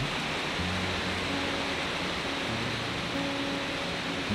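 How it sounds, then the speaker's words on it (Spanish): Rain falls steadily outside, a soft, even wash of noise with no talking over it. "Eso, es el, el, río de la lluvia que cae ahora acá."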